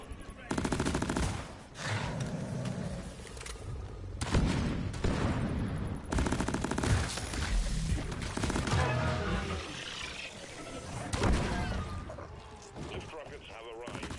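Rapid bursts of machine gun fire from a video game, with loud, dense rattling volleys and booms repeating almost without pause across the stretch, overlaid by game sounds and talk.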